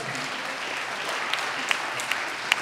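An audience at a policy summit town hall claps to thank the performing artists, a steady, moderately loud spread of applause with a few crisp, close individual claps popping out toward the end.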